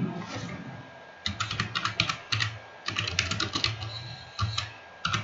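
Rapid bursts of keystrokes on a computer keyboard while filling in an online application form for a Rajasthan computer instructor post, with close clusters of clicks separated by short pauses and no talking.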